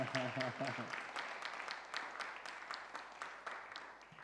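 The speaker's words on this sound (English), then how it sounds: "one big applause for Gauravani, please" Audience applause at a morning kirtan festival in Rishikesh: dense, steady clapping from a crowd, continuing for several seconds after a brief voice at the start.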